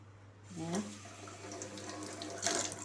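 A tap runs into a sink with a steady splashing stream, while a voice speaks briefly over it and a low hum sits underneath.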